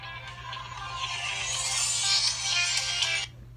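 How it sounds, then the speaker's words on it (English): A telephone rings with a bright electronic ringtone, steady and fairly loud for about three seconds before cutting off, with no talking over it. "The phone's ringing."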